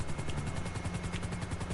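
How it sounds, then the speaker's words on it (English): Gold Swift Deluxe, a fast passenger helicopter in GTA 5, hums steadily with a throbbing rotor pulse and engine whine, loud and continuous with no voices. "this one here is the fastest chopper in the game."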